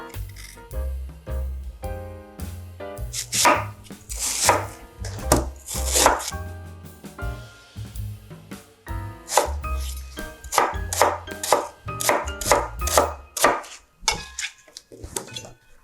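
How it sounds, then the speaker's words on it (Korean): Knife work on a pear being cut on a board for kimchi, a steady run of close, crisp chopping taps in quick repeated bursts, with no talk. "이런 게 깎아서 1개를 다 갈아 넣을 거예요."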